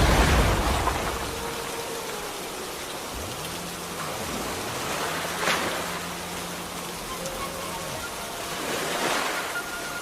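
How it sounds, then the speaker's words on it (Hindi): Heavy rain in a cartoon storm at sea, a steady hiss of downpour and surf-like wash with a few gusting swells, loud and continuous, alongside low tonal sound effects and no speech. "अचानक देखते देखते मौसम बदल जाता है और बहुत तेज बारिश होने लगती है"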